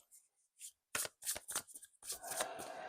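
Tarot cards are shuffled and handled near the mic in quick papery bursts. Short riffles come first, then a longer continuous shuffle, with quiet gaps in between.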